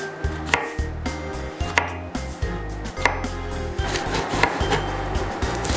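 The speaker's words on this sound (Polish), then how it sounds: "Następnie kroimy w talarki." A knife slices zucchini into rounds on a cutting board, with steady rhythmic knocks of the blade on the board, about two per second, close and clear.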